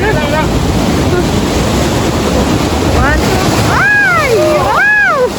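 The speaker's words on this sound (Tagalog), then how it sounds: "malakas yung alon" Strong ocean waves crash and roar steadily at a beach resort in Bani, Pangasinan, a loud continuous surf wash under wind, with excited voices exclaiming over it in the last seconds.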